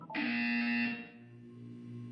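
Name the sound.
buzzer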